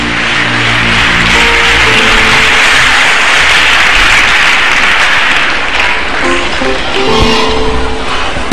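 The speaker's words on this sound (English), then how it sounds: "Clap your hands for Jesus." Church congregation clapping hands during worship, a loud, dense, continuous roar of many hands that fills the room, with faint tones and voices underneath.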